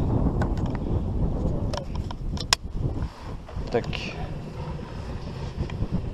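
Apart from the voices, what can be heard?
strong wind blowing at a family carp-fishing campsite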